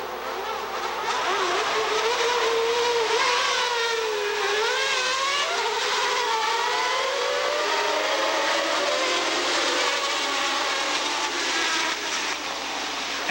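Formula 1 cars from the 1990 season on the opening lap of the Belgian Grand Prix at Spa scream past, with high engine wails rising and falling in pitch as the pack goes by, loud and continuous.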